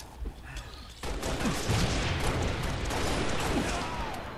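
Rapid gunfire bursts from a team doubles video game match, a dense, sustained volley of shots starting abruptly and continuing loud throughout.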